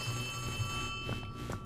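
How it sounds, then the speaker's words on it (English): A telephone rings inside the Poppy Playtime Chapter 3 video game, a steady electronic ringing tone held against a low rumbling ambience, with no talk during it. "A phone. I hear a phone."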